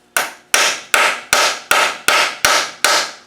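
Eight evenly spaced, sharp metallic hammer blows tapping at a part of a Td5 LT230 transfer box stuck with sealer, each strike ringing briefly before the next, loud and close with no talk.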